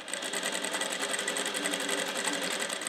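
A sewing machine stitches along the edge of fabric for a small double eyeglass pouch, its needle running in a rapid, even mechanical chatter, close and steady throughout.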